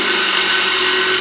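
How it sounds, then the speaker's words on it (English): A power drill spins steadily at high speed, enlarging holes in a Sellers 6G drill grinder part, a loud, continuous whine with no pauses. "So I'm just going to take a drill bit here. I'm going to enlarge all these holes"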